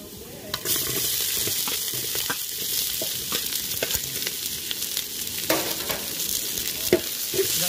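Chopped onions with ginger and garlic frying in oil for chicken sukka, a loud continuous sizzle broken by repeated scraping clacks of a spatula stirring the pan.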